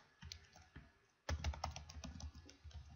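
Fingers type on a computer keyboard to enter an email address, a quick rattle of light key clicks that starts softly, then turns into a denser, louder run of taps heard close up.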